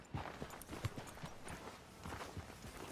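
A horse's hooves clip-clop at a steady walking pace in Red Dead Redemption 2, each hoof fall a soft, fairly quiet thud in a regular rhythm.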